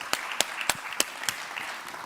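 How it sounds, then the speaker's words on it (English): Sparse, scattered hand claps from a small part of the audience at the WordCamp Europe 2023 conference, about half a dozen sharp separate claps at a moderate distance, with no steady applause building up. "Big round of applause, everyone."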